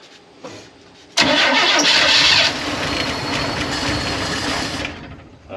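An old ice cream truck engine cranks hard and loud with a flooded, struggling whir. The cranking sustains for several seconds without catching and then cuts off.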